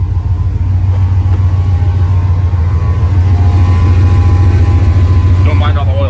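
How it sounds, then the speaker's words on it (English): A lowered 1983 Dodge D-150 truck's loud fuel pump whines steadily up close over a deep, constant engine idle rumble. "That's that fuel pump you're hearing. It's kind of loud."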